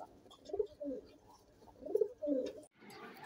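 Pigeons at a pigeon farm cooing in soft, rounded phrases, two clear bouts close by, with faint background noise and no speech.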